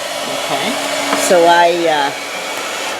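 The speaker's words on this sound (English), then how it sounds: "after a half of an hour of the blow dryer running" A running hair dryer blows steadily into the back of a refrigerator freezer to melt ice. The whir is loud, close and continuous, with a pitch that shifts slightly partway through and brief speech over it.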